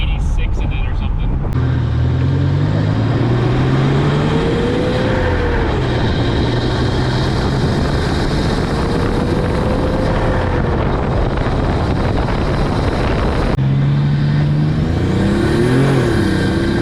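A turbo-swapped Nissan 300ZX cruising in fifth gear, its engine droning steadily with pitch rising and falling under strong road and wind noise, while a voice talks over it from the cabin.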